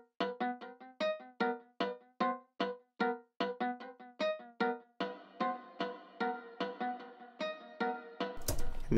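Layered acoustic guitar harmonics preset in Logic with delay added, quick bright plucked notes in a steady pattern whose echoes smear the gaps, growing into a denser wash before a burst of noise at the end.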